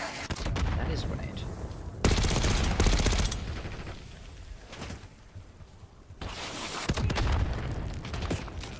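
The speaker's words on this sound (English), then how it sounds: "That is a grenade." Gunfire and explosions from the Black Ops 6 campaign: loud bursts of shots and booms at about two and six seconds, with continuous combat noise in between and some voice underneath.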